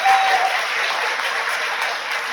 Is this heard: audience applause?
yes